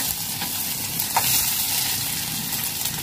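Garlic frying with cumin in hot oil for moong masoor dal, a steady broadband sizzle that holds evenly close by, with a brief brighter crackle near the middle and no voices.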